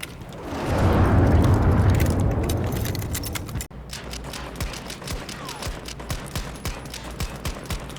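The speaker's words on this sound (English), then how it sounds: "you can actually shoot the LMG in semi-automatic mode, but the sound isn't much better at all" LMG gunfire in the video game Battlefield 2042: a roaring swell of battle noise gives way, after a brief cut, to a rapid run of sharp, evenly spaced shots close by.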